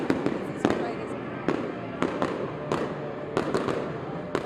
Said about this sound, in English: How pretty is that shot with the fireworks and the New Year's ball?